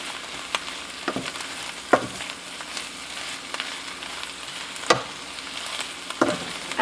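Baby spinach added to a pan of coconut braised chickpeas, a low steady sizzle with several sharp scraping stirs and clatters spread across, close and without talk.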